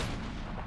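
Heavy gunfire rumbles in Halo CE with the XAM mod, a brief dense burst of booming shots that fills the whole moment.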